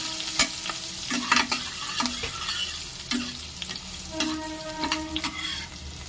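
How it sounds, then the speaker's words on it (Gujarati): Chillies and cashew gathiya curry are stirred in a hot pan, giving a steady sizzle with repeated spoon scrapes and knocks against the pan in an uneven rhythm. "આપણે બધું આ રીતના મિક્સ કરી લેવાનું છે।"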